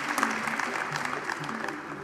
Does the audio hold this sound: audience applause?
yes